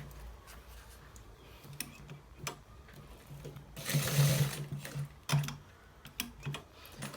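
A sewing machine stitches a designer collar shirt in short intermittent bursts, with a longer run of needle chatter midway, close and fairly quiet against a low background hum.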